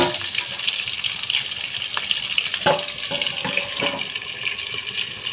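Loud, hissing sizzle of egg and onion frying in a pan, continuous and close, with a few brief scraping or clicking sounds.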